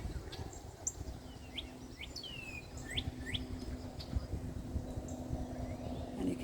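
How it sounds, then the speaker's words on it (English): Bird singing in a garden park in Toronto, a series of short clear chirps and rising whistled notes at moderate distance over a low background hum and ambient rumble. "And there is a beautiful bird."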